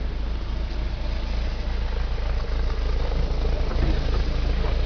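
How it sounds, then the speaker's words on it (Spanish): Engine of a 1994 VW Combi Caravelle van running at a steady idle, a constant low rumble with an even mechanical chatter, close by and continuous with no talking. "motor funcionando"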